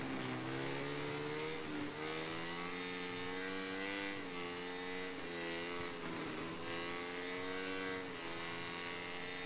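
A Moto3 motorcycle engine in MotoGP 17 screams constantly at high revs, its pitch climbing and dropping again with each gear change and throttle shift, loud and continuous with no talking.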